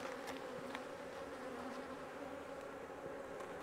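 Honeybees swarm across an open beehive during an October inspection, a dense steady buzzing hum that fills the whole span, near and continuous, with occasional brighter passes of individual bees close by and no talking.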